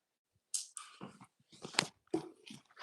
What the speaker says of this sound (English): You being a good dog